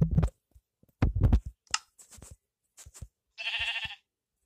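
Sheep in the Minecraft video game give a clear, isolated bleat near the end, after a few short thumps of player actions, with no talking.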